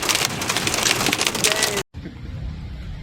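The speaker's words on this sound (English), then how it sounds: "we're getting hit in a big hailstorm" Hail and rain pound down hard during a big hailstorm at the Homestead Festival in Columbia, Tennessee: a dense, loud, steady clatter that cuts out abruptly near the end, then returns as a softer patter.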